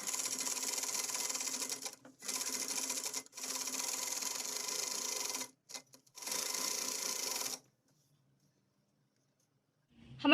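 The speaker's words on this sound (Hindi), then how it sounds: "इसे ½ इंच के फासले पे चारों साइड से सिलाई लगा लेंगे।" A sewing machine stitches frock panels onto net fabric, running in steady close bursts with short pauses, then stopping into near silence.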